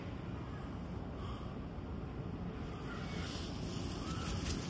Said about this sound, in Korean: 바람이 엄청 세요, 오늘.